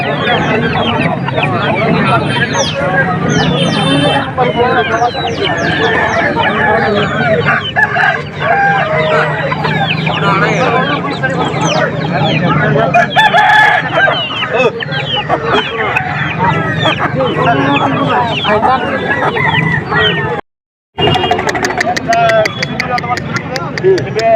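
At a busy morning chicken market, roosters crow again and again among a dense flock of clucking chickens. The birds are loud and close and keep up a constant din, with people talking faintly underneath and a brief drop near the end.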